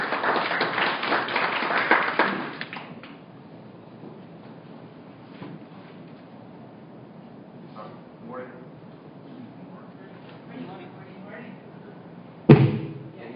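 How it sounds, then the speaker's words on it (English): Applause from a conference session audience swells loudly for the first couple of seconds, then fades into quiet room murmur and scattered sounds, with one sharp thump near the end. "give him a round of applause"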